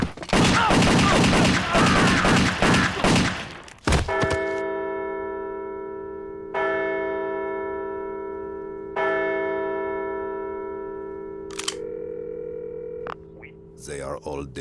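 Video game gunfire, a loud rapid burst of shots up front, followed by long ringing bell-like tones that fade slowly.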